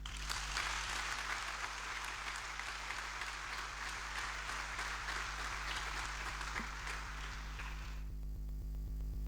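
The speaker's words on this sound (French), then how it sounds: "Je voudrais qu'on acclame vraiment les papas." A church congregation at Mass breaks into sustained, even applause for the fathers, a dense steady clapping that lasts several seconds and then stops abruptly, leaving a faint hum.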